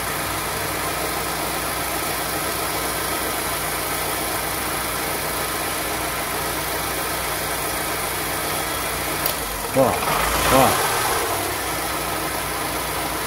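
A car engine idles steadily with a faulty HEI ignition module, then stumbles and misfires near the end as if about to stall, heard close up with a brief voice.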